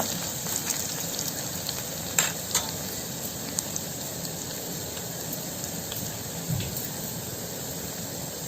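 Spices, crushed garlic and a lump of asafoetida fry in a pan for Tamil kara kulambu, giving a continuous close sizzle with a few sharp stirring clicks and no voices.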